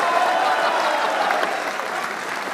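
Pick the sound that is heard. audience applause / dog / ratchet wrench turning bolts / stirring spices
audience applause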